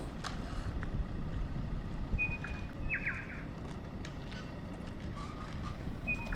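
Faint, scattered chirps of colorful birds endemic to New Zealand, heard among native palm groves and limestone karst valleys, a few brief calls rising over a steady, noisy outdoor background.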